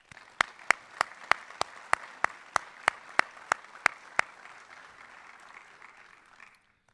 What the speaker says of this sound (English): Let's go ahead and give them one last round of applause.